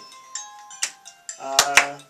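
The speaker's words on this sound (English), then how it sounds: "That might be my cell phone" A cell phone rings during an interview with a bright, repeating melodic tone that rises in short pulses and comes through clearly in the room.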